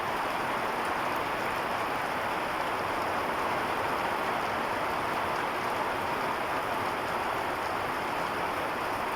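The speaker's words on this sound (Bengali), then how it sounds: "বৃষ্টির পানি।" Steady, dense rain hisses continuously, a broad even wash of falling water with no voices.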